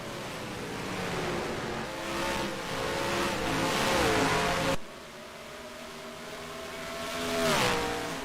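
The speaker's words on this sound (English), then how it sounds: "Look at the cars shifting." Race cars at Watkins Glen roar past in a sim racing league event, engines rising in pitch and dropping as they shift gears, several cars overlapping with revving sweeps and a sharp cut midway.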